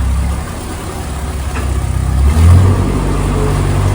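A loud, low canal boat engine rumbles continuously close by at high revs while crawling slowly through low water, revving up slightly partway through with a deep throbbing hum.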